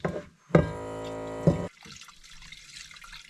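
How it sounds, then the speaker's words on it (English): Water splashes and pours over a camping pot during rinsing outdoors in the mountains. A brief splash is followed by a steady pour of about a second, which then trails off into soft trickling, close and without talk. "Then we can just rinse."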